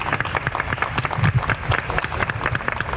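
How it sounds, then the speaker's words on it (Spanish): A modest audience at a book presentation claps steadily, with individual hand claps clearly separable in a brisk, continuous patter at moderate volume. "Así que te damos un fuerte aplauso, Rosita."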